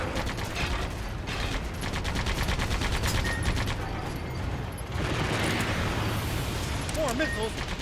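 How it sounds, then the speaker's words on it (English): Machine gun fire in the Sand Land video game rattles in rapid bursts over a busy battle mix of explosions and effects, with continuous dense clatter and a voice talking throughout. "Use the machine gun again."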